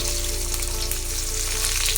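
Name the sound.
cumin, bay leaf, whole chillies and chopped onion frying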